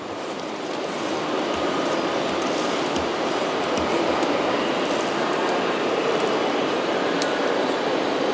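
A train rolls toward Marburg with steady, continuous rumble and track noise throughout, a constant in-carriage wash with faint clicks, no voices.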